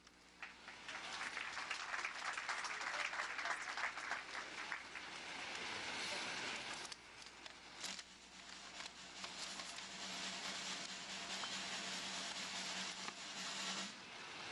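Audience applause at a 2014 Rising Stars awards ceremony, a steady wash of clapping from a large crowd lasting the whole stretch with a brief dip partway through, no voices over it.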